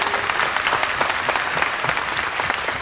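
Dense applause from a fan convention audience at a Toulouse actor panel, steady and fairly close, sustained clapping filling the whole stretch with a faint murmur of crowd beneath.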